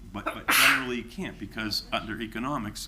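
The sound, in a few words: sneeze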